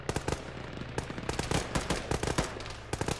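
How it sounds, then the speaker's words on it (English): Rapid gunfire in a squad-based military shooter game pours in on the squad, dense bursts of sharp cracks in quick irregular succession, loud and close, with no talk over it. "We're just getting shot."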